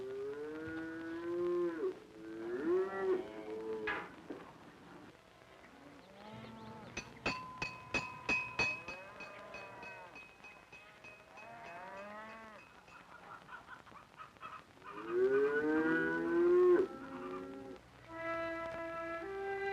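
Cattle lowing on a farm, with several drawn-out moos from more than one animal, some near and some farther off, alongside a brief run of clucking fowl and other faint farmyard background sounds, no voices.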